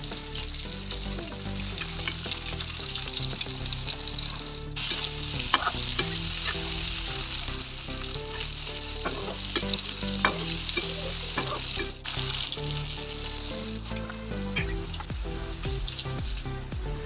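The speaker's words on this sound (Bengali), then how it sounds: "এই যে আমার এখানে চিকেনগুলো ভাজা হয়ে গিয়েছে, এবার আমি এগুলোকে তেল ঝরিয়ে উঠিয়ে নিব।" Chicken pieces deep-fry in hot oil KFC style, a constant bright sizzle and crackle over a steady tonal background, with occasional stirring.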